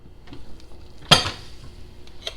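Lid set onto a slow cooker (crockpot) holding a pot roast, a single sharp clatter of the cover landing, close and brief against a quiet kitchen background.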